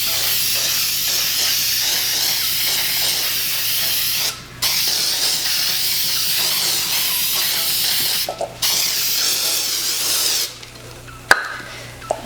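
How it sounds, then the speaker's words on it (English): Spray adhesive hisses steadily from a can onto the angled sides of foam pieces, in long continuous bursts broken by a few brief pauses, loud and close with no talking. "So what I'm going to do is spray all the angled sides really well with this"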